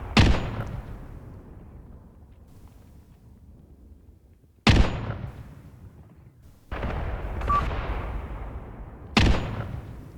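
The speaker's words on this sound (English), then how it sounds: "Ah, the mortars are shooting. The characteristic sound of them shooting." Mortars fire in Graviteam Tactics with four loud, booming launches spaced a few seconds apart. Each thump rolls out into a long, fading rumble, and faint distant battle noise sits underneath.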